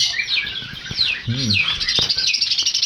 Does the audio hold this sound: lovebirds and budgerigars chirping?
yes